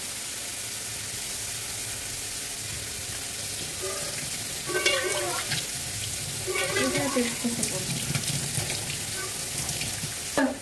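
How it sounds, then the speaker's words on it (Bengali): Prawns frying in hot oil in a home kitchen pan, a steady close sizzle with bursts of louder crackling and spatter partway through, no voices over it. "এদিকে চিংড়ি মাছ ভাজছি"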